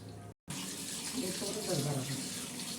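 Running tap water pours steadily as rice is washed by hand in a vessel, a close continuous splashing rush after a brief cut of silence, with faint voices in the background.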